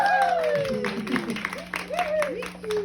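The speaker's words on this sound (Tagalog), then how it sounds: "Palakpak!" Guests at an 18th birthday party clap in brief, scattered applause while a host keeps talking over it, with a steady hum in the room.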